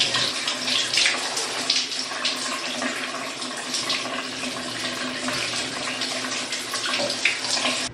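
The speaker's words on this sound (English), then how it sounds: "Let's just get in the shower" Shower water runs steadily in a continuous close, broadband hiss, with no speech.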